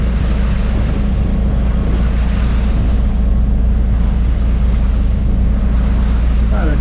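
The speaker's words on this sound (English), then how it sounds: "Like we got a wake right here." Wake waves from another vessel, about a two-foot wake of eight to ten waves, slap against a classic powerboat cruising near Southwest Harbor, Maine, under steady engine rumble and wind noise throughout.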